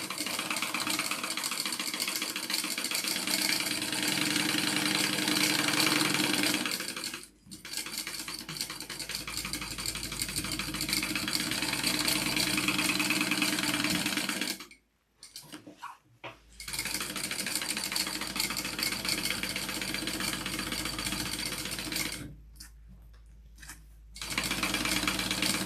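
A sewing machine runs steadily while basting around the edges of a quilted shoulder bag, a continuous mechanical hum with three short pauses where the stitching stops and restarts.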